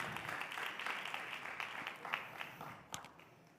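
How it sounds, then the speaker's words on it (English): An audience at a panel on AI and the creative economy applauds Barbados' Minister of Innovation, Industry, Science, and Technology, giving a fairly faint, steady patter of clapping for a few seconds with a couple of sharper claps near the end. "Big round of applause, please."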